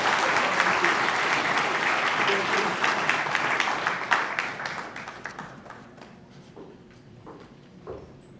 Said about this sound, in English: Once again, let's give one more round of applause, Mr. Trevor Kiefer